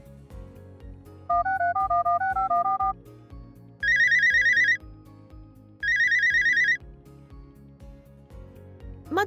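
A mobile phone ringtone sounds indoors, a melodic phrase followed by two bright repeated bursts of ringing over a softer rhythmic backing tune.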